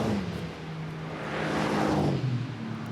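A black Mercedes race car in a Nürburgring endurance race sweeps past, its engine note rising then dropping in pitch as it goes by, moderately loud with a broad whoosh at the peak.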